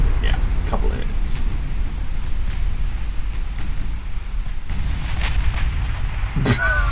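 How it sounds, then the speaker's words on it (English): In the naval warship game Ultimate Admiral Dreadnoughts, 16-inch battleship guns fire in response, giving a continuous heavy low rumble with scattered booming bursts and crackles layered on top. "That's 16-inch guns firing in response."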